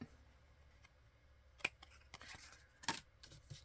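Scissors snip through paper overhang while trimming a portrait tag to size: two short, crisp cuts stand out against a quiet room with faint rustling in between.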